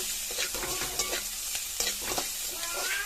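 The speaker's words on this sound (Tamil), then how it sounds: "அது நல்லா பச்சை வாசனை போகிற அளவுக்கு நல்லா வதக்கி விட்டுக்கோங்க." Onion with ginger garlic paste sautés in a pan, a soft sizzle under repeated scraping stir strokes from a spatula, close and steady.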